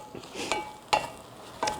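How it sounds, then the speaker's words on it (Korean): Rice stir-fried in sesame or perilla oil for traditional Korean porridge gives soft sizzling and a few scraping stirs of a utensil in a pan, close and moderately loud, with no talking. "참기름이나 들기름에 이렇게 쌀을 볶는 방법이 있어요"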